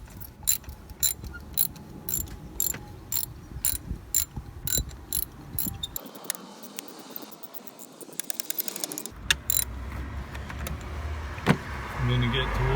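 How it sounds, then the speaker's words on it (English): A ratchet with a spark plug socket and extension loosens a spark plug on a VW/Audi 1.8T engine, giving a run of close, sharp clicking ticks in bursts with some handling clatter, and no speech. "we're going back in with our spark plug socket and extension on the ratchet"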